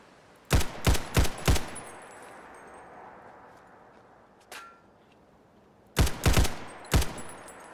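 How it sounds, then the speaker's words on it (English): Gunfire in Fallout 4 cracks out in a quick burst of four sharp shots, a lone faint crack follows in the quiet, then another tight volley of four shots, the reports loud and close against a low ambient hush. "That's a very interesting gun sound. Gunfire sound."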